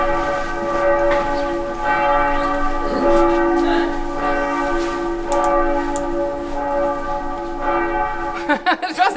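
A ringing bell, likely a church bell, sounds steadily with sustained overlapping tones for most of the stretch, fairly loud against a busy background, before the tone breaks up near the end.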